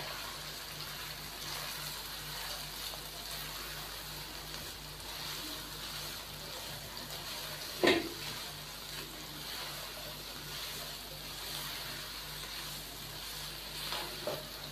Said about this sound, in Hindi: चार से 5 मिनट हम इसको अच्छे तरीके से फ्राई कर लेंगे।